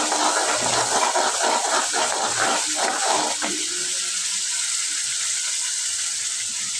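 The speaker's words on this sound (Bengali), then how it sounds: "আমি মোটামুটি মশলাটা ভালো করে কষিয়ে নিচ্ছি" Spice paste for a fish curry being sautéed in a pan, crackling and sizzling loudly with stirring scrapes, then settling into a quieter steady sizzle.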